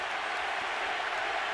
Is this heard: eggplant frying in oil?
no